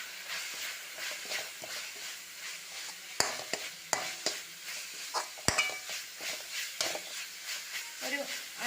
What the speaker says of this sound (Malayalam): അഞ്ചോ പത്തോ സെക്കൻഡ് ഒന്ന് നല്ലപോലെ ഇളക്കി കൊടുക്കാം